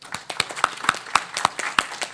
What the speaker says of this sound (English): let's give a big round of applause, both to the panelists, but to yourselves as well.